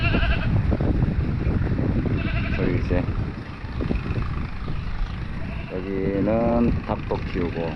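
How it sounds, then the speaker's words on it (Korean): A goat bleats a few times in a wavering cry amid outdoor background noise and someone talking, at a floating village on Tonlé Sap Lake near Siem Reap, Cambodia. "염소도 키우나봐 염소 소리 들리네"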